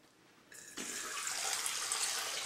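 Water from a tap pours steadily, starting with a short trickle and swelling into a full rushing stream for about two seconds before stopping abruptly, close and clear with no talking.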